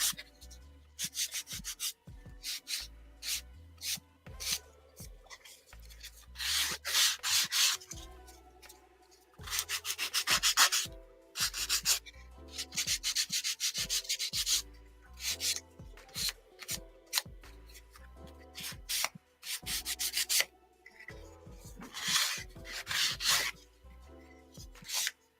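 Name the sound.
small sander sanding wooden awning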